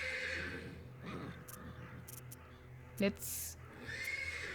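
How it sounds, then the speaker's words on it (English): A horse whinnies from the stables of a post station in the game Black Book, a drawn-out, wavering neigh with soft hoof clatter, alongside quiet talk. "The persistent neighing of a horse can be heard from the stables."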